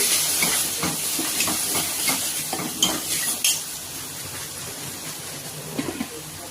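A spoon stirs turmeric, chili powder and coriander powder into cooking sambar in a pan, producing a gentle sizzle with repeated scraping and clinking of metal utensil on the pan, and no speech.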